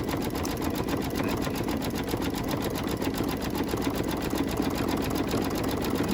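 Embroidery machine stitching through a couple of layers of fabric, a fast, even mechanical chatter that runs steadily and close throughout, no voices.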